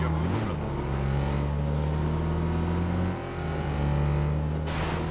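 A motorcycle engine in the video game PUBG, a loud steady close drone that dips briefly and then picks back up, with no talk over it.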